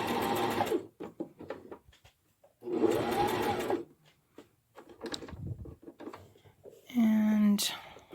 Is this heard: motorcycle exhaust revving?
no